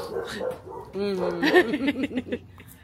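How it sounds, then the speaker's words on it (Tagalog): A few dogs bark and yip in a backyard of an empty Texas house, a short burst of barks close by, overlapped by people talking and laughing. "Uh-oh, the dogs."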